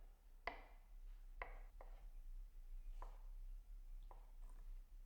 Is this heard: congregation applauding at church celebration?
no